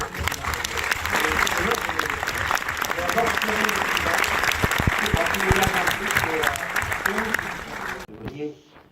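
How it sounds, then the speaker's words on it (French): An audience applauds to honour a midwife at a premiere and birthday event, dense sustained clapping filling the room for about eight seconds before cutting off, with a voice speaking briefly at the end. "je voudrais qu'on t'applaudisse et qu'on te rende hommage"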